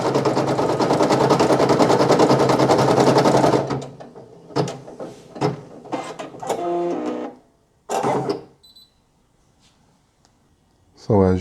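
Brother PE800 embroidery machine stitching a patch, a fast dense mechanical whirring hum for several seconds before stopping, followed by scattered clicks, short beeps and a person speaking.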